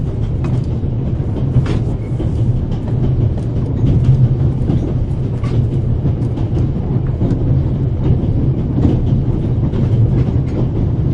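A train runs steadily along the rails with a loud, continuous rumble and faint clickety-clack, heard close and uninterrupted for the whole stretch.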